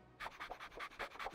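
A dog pants quickly and rhythmically close by, short breathy puffs repeating steadily.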